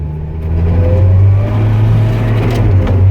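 A crop sprayer working a field of Amarillo peas drops a gear and its engine revs up, a loud, steady low drone that swells then holds, close to the cab.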